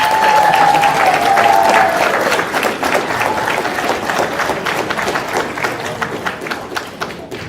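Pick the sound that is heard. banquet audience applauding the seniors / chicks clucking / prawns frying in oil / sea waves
banquet audience applauding the seniors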